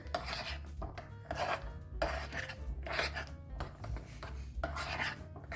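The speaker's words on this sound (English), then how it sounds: "Okay, we're just going to stir these guys in." Chocolate chips being stirred into thick flourless cookie dough in a bowl, with soft rasping, rubbing strokes in uneven bursts, close and fairly quiet.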